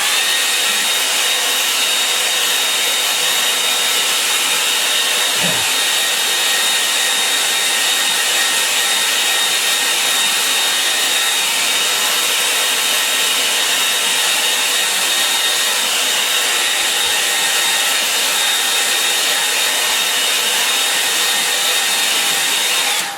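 A hair dryer blows steadily and loudly over a watercolour painting of trees, its even whooshing hiss holding for over twenty seconds with a faint bump partway through.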